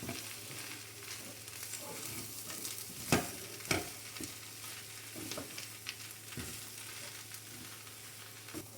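A spiced veg burger mixture with black pepper, chilli powder and salt is stirred in a hot pan, giving a steady low sizzle with a few sharp scraping knocks of the spoon and no talking.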